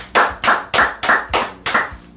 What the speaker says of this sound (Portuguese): Eu quero uma salva de palmas nesse estúdio.